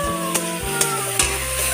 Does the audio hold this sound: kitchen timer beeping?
no